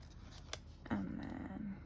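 Scissors cutting paper while planner pages are decorated, a few faint snips followed by a single slightly louder cut near the middle, close by with no talk.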